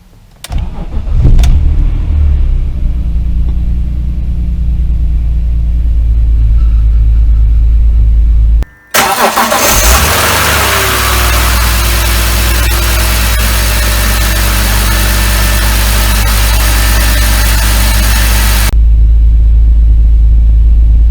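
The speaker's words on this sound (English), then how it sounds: "And now, let's do a proper cold start." A BMW E46 330i with the M54 inline-six cold-starts: a brief crank and catch, then a loud, steady, close-up idle rumble that runs for about ten seconds before cutting off.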